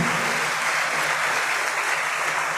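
Sustained applause from a congregation at a thanksgiving Mass opening the academic year, honoring the deans and vice-deans; steady, dense clapping fills the whole stretch without a break.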